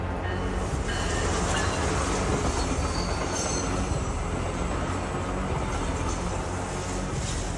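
A train rolls past nearby in a steady, continuous wash of rail rumble and wheel noise, loud throughout with faint squealing and clatter and no voices.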